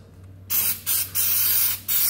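Lubricant sprays onto garage door springs in four sharp hissing bursts from an aerosol can, each lasting a fraction of a second, close by in an otherwise quiet space.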